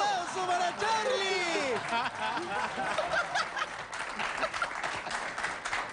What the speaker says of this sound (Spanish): ¡Fuerte el aplauso para Charlie!